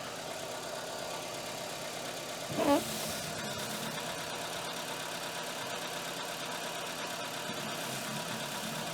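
A Renault Mégane Classic engine idles steadily nearby, with a brief louder blip of the throttle partway through before settling back to an even hum.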